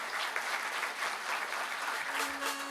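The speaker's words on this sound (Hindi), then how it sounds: "सो फिर से हम जोरदार तालियों से उनका स्वागत करते हैं, प्रीति कदम जी।" An audience at a birth anniversary event for Dr. Babasaheb Ambedkar claps loudly to welcome a speaker, a continuous, full roomful of applause sustained evenly throughout.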